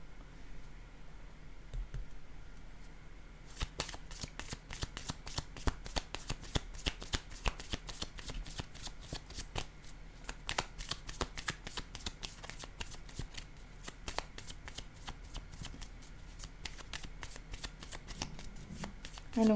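Tarot-style cards are shuffled and laid down in a dense, rapid patter of crisp riffling clicks that runs for many seconds, close and steady, after a quieter opening.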